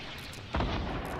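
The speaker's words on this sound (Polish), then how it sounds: "Oj, granaty są." A grenade blast in Fortnite Battle Royale, played in the 50 v 50 mode on Xbox One, lands as one booming burst about halfway through. It sits over a steady background of game noise and keeps ringing to the end.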